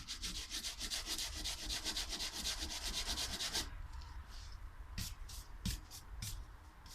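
A sanding block rubs steadily over an aerated concrete ant nest in close, continuous scratchy strokes, then stops, leaving a few lighter scrapes and taps.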